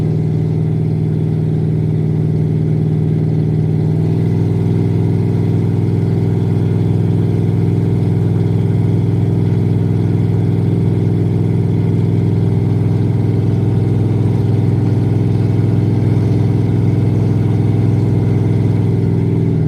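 A loud truck engine drones steadily at close range while cruising on the road from Orlando to Gainesville, a deep continuous rumble with a slight shift in tone as it keeps driving.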